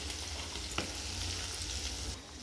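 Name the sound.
frying in pan for chicken avakai pickle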